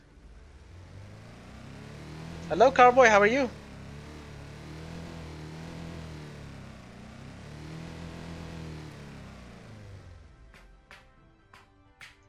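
A car engine in a video game cranks and starts, then settles into a steady low idle, with a burst of talking near the start and a few clicks at the end.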